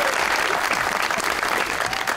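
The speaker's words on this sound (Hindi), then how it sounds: "अरे तालियां बजाओ," A studio audience applauding on an Eid television show, dense continuous clapping that stays loud and even throughout, close and filling the room.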